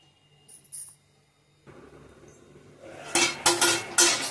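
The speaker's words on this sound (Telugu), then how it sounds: "ఇది అన్ని కలిపి మూత పెడతాను." A lid clatters onto a metal cooking pot of seasoned cheniga leafy greens. A few quiet taps come first, then several loud, close metallic clanks and rattles.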